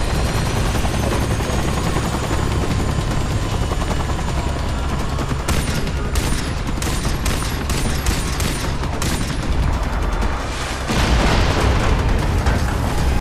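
A chopper lifts off in Star Citizen amid a loud, steady rotor roar, with bursts of gunfire and booms layered over it, sustained throughout.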